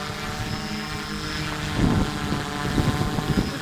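A Nimbus 1800 VTOL drone flies in strong wind, its propeller hum steady with a faint whine, swelling and fluttering as gusts hit, with no voices.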